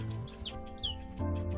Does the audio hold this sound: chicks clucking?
yes